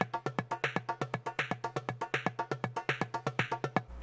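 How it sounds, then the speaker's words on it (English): Rapid looping drum pattern built in a Max patch, a steady stream of fast, evenly spaced hits with a low thump under each, loud and alone throughout, ending with a brief low tail. "With this rapid kind of drum sound."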